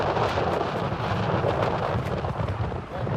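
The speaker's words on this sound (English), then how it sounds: "Now we just need to hunker down and ride out this ferocious storm." A ferocious night thunderstorm rumbles over a mountain campsite on Mount Marum, a dense continuous roar of thunder and storm noise with wind buffeting the microphone, loud and unbroken throughout.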